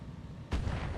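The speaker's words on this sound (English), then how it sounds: "Oh, is that artillery?" A deep, booming burst of artillery fire in the mech game Battletech, with a heavy rumbling tail that lingers after the impact, loud and close.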